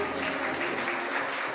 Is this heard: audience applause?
yes